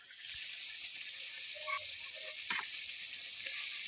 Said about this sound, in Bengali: কড়াইতে তেল, শুকনো জিরে দিয়ে ভালোভাবে নেড়ে চেড়ে